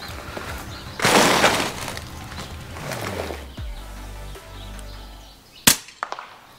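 An FX Crown air rifle fires a 26 grain Javelin slug at a pest 53 meters away: one broad burst of noise early on, a low rumble after it, then a sharp, loud crack with short echoing snaps near the end.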